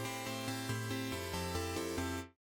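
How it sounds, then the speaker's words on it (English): Lead Burn, a basic synth lead preset for future bass, plays a bright, buzzy chord progression with steady rhythmic chord changes, loud and close, then stops abruptly near the end. "The second one is Lead Burn,"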